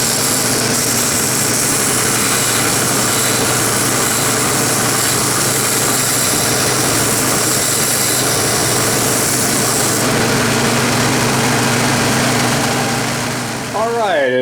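An abrasive sander runs during work on machined Bridgeport mill riser blocks, giving a loud, steady motor drone that holds unbroken for the whole stretch.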